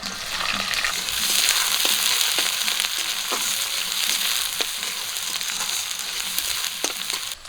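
Chopped onion and green chili frying in hot mustard oil in a pan give a steady, loud sizzle with occasional crackles and stirring taps throughout.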